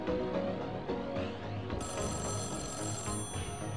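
Telephone ringing in the horror video game Echostasis, a loud, continuous electronic ring with a bright trilling tone that swells sharply partway through over a dense musical backdrop, with no talk.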